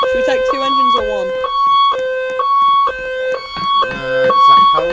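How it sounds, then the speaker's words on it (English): A fire station turnout alarm in a roleplay video game sounds for a house fire call, loud repeating electronic two-tone wails and beeps with stepped pitches, prominent and close throughout. "House fire, I'll go set alarm off."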